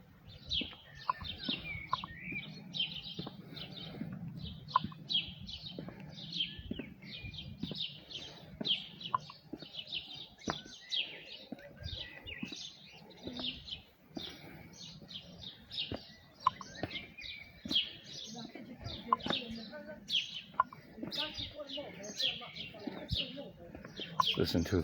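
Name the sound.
birds singing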